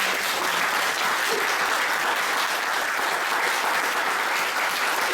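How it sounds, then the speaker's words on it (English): Sustained round of applause from a conference audience at a synagogue, steady and dense throughout, with no voices over it. "If we could give them a round of applause."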